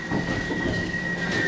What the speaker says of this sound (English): The train rumbles